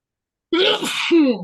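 A single loud sneeze bursts out after half a second of silence, with a wet, voiced rush that trails off quickly.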